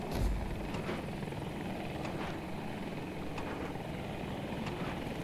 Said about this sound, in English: Attack chopper is getting low